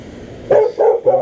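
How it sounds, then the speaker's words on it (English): Dogs bark three times in quick succession during an HVAC service call at a house, loud and fairly close over a faint background hum. "looks like the dogs don't want us here"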